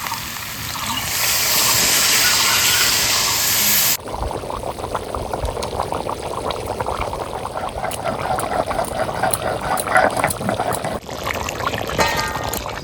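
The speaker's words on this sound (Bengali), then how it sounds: "এবার জল দিয়ে দেবো।" Water pouring into a pot of duck meat curry being cooked, a loud steady close pour for a few seconds, then bubbling, gurgling liquid continuing alone.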